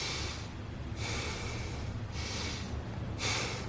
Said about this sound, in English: you give yourself a couple recovery breaths